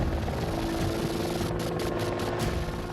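An Apache attack helicopter gives off a continuous, loud, broadband rotor and engine roar that stays steady throughout with no break.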